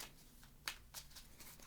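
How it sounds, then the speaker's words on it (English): Board game cards being shuffled at a kids' Christmas game session, a quiet run of soft riffling and snapping bursts, one sharper snap midway, faint and close with no talk. "you shuffle them up"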